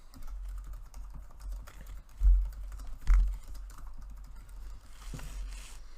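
Someone types Java code on a computer keyboard in quick, uneven bursts of clicking keys. A few louder thumps stand out, with no talking.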